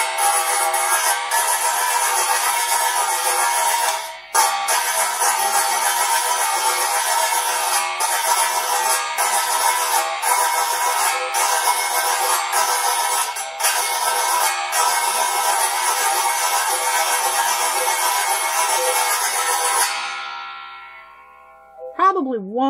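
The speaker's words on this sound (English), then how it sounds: "This is a gyro made with spring." A Brazilian spring percussion instrument fitted with a trumpet bell gives a dense, buzzing metallic drone that holds for about twenty seconds with brief breaks, then fades into a few wavering, pitch-bending swoops as the bell is moved toward and away from the body.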